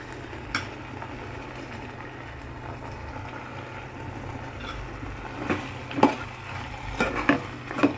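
Curry fries in oil while being stirred, giving a soft continuous sizzle under a low hum, with sharper spoon scrapes and knocks near the end.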